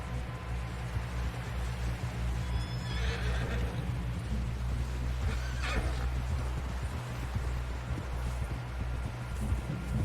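A horse in Red Dead Redemption 2 whinnies in a drawn-out neigh amid a constant low hum and faint rustling, with a second brief whinny shortly after.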